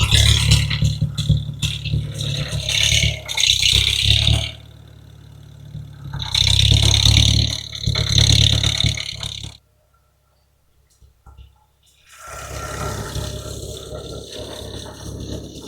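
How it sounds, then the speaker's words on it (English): A noisy tractor engine runs on a farm in winter with a loud, rattling, rough roar that drops out briefly near the end before the rumble returns. "This tractor's not very quiet."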